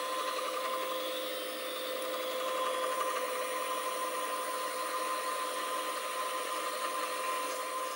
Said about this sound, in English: I'll use this ball mill to put a hole in here to get started.